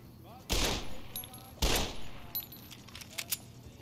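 Two sharp, loud gunshots about a second apart in the Fallout New Vegas game, followed by a few faint clicks and small metallic rattles.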